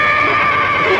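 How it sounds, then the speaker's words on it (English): A horse whinnies loudly and close by, one sustained neigh filling the whole second on its own with no talk over it. "Well, I thought I heard a horse."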